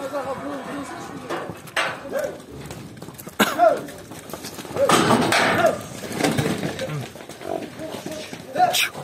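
Horses are driven into a treatment crush outdoors, with snorts, hoof scuffs and animal calls mixed with shouting handlers, loud bursts over a busy, uneven background.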